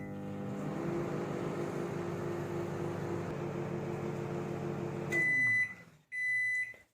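A Panasonic microwave oven hums steadily on a combination cooking setting while making gobhi fry, then the hum cuts off and two loud, sustained electronic beeps sound close by.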